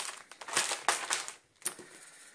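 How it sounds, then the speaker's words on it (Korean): A plastic zipper bag crinkles and rustles up close in short, irregular bursts as it is handled, with brief pauses between the crackles. "지퍼팩에 넣습니다."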